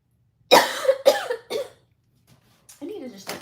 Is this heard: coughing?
yes